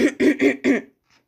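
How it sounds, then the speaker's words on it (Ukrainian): A few quick, loud coughs in a rapid burst from close by, followed by a faint breathy trailing sound. "Вибачте, за мій кашель."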